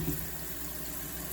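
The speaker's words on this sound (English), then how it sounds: "I just throw them in a strainer, let the water run over them for about a while" Tap water runs steadily over thawed prawns in a kitchen strainer, a soft, continuous splashing hiss at low volume with no voices.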